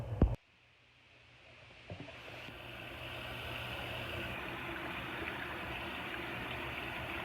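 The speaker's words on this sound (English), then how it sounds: "So let's get this hot water in here and get this concoction going." Hot water poured steadily into a jug while mixing a homemade organic fertilizer, a continuous rushing pour that starts after a sharp knock and grows slightly fuller as it goes on, with no talking.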